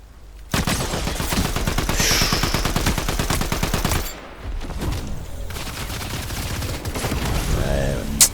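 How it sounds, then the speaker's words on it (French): Rapid bursts of gunfire in the video game Fortnite crack out in dense volleys, a long loud stretch, a short pause, then another run of shots, with game sounds layered between. "Balle de snipe. En général, ça pardonne pas."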